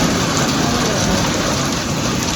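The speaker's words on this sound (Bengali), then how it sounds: "বৃষ্টিটা অনেক জোরে এলো" Heavy rain pours down outside a shop, a loud, dense and unbroken roar of water that fills the short stretch evenly.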